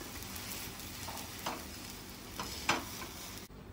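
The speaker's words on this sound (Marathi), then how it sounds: "बघा असे थोडे ब्राऊन कलर येतोपर्यंत आपण भाजून घ्यायचे आहेत." A paneer sandwich toasting in a pan until browned gives a steady, soft sizzle and fry throughout, with a few brief clicks or scrapes rising above it before it cuts off abruptly near the end.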